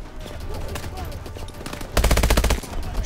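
Gunfire in Call of Duty: Advanced Warfare: scattered distant shots, then a loud rapid automatic burst of about half a second, with low game rumble underneath.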